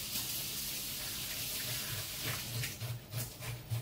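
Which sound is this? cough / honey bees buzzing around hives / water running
water running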